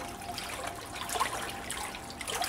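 A Nissamaran 50 lbs 12V electric trolling motor running at a higher speed setting churns and splashes water in a steady, continuous wash with sloshing bursts, close by.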